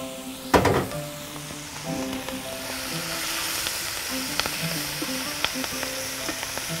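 Steady loud sizzling of shrimp frying in a pan, with a sharp clatter near the start and occasional pops throughout.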